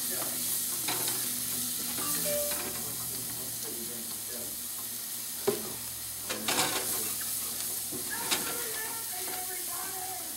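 Flour being stirred into sweated vegetables in a pot, with steady soft sizzling and scraping throughout and a few sharper clinks of a utensil against the pot near the middle and end.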